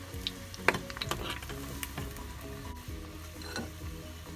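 Pieces of Lebanese ma'karoon dough frying in hot oil, giving a steady close sizzle with crackling pops and a few louder spatters near the start, no voices.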